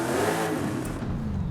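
A racing 7.2 litre V8 in a Forza Horizon 5 car revs hard, a loud, dense engine roar held for a moment and then easing off slightly, with no voices.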